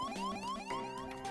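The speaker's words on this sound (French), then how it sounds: "des sirènes se mettent à retentir" Alarm sirens sound aboard a ship in the space strategy game FTL, repeated rising electronic wails in quick succession, steady and fairly close, with no speech.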